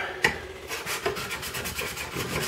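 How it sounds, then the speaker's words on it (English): A steel chisel rubbed back and forth on a Harbor Freight diamond sharpening block, giving a steady close raspy scraping with a few sharper strokes and no talk. "to help give these chisels a good sharp edge, to help take away the burr, is just kind of lift it a little and run it lengthwise"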